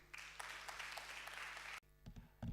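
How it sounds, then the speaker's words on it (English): An audience at an innovation event applauds with faint, steady clapping heard over a low electrical hum, which cuts off abruptly before a few closer, louder sounds follow. "a hand of applause for Mr. John Mrusha."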